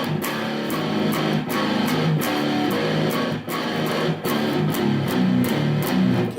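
An electric guitar plays the chorus of a song in a steady, repeating rhythmic pattern with sharp regular accents, sounding full and continuous throughout.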